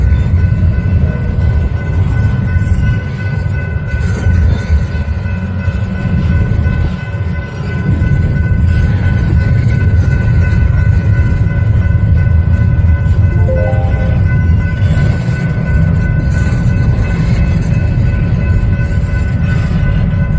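A Union Pacific eastbound stack train being refueled at Thompsonville Rd in Perry, Kansas, giving off a loud, steady, close rumble that continues unbroken for the whole stretch.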